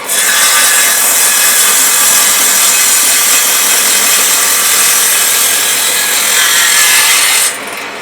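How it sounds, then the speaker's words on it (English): A saw slices half-inch pieces across the end grain of pallet wood, making a loud, continuous, close rasping cut that runs nearly the whole time before easing off at the very end. "I'm going to slice off across the end grain here. I'm going to slice off 1/2 inch slices."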